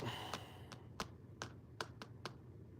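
Finger snaps, seven sharp, distinct clicks spaced about half a second apart, close and quiet over faint background noise.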